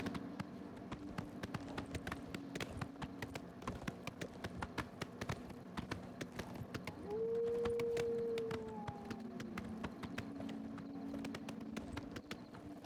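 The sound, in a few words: horse hooves galloping in The Elder Scrolls IV: Oblivion video game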